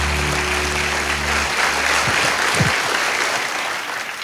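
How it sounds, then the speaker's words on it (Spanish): A church congregation claps loudly and steadily, filling the room with dense applause while a low sustained tone fades out early and a few faint vocal sounds rise briefly within it. "Démosle un fuerte aplauso"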